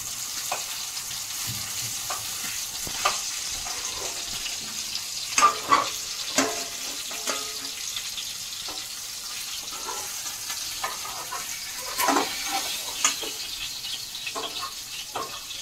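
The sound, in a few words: fish frying in a pan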